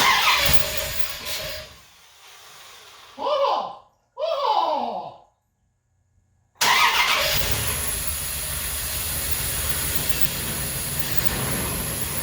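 An old truck's engine cranks in two short bursts, goes quiet, then catches and settles into a steady running roar that holds to the end, heard up close after distributor and timing work.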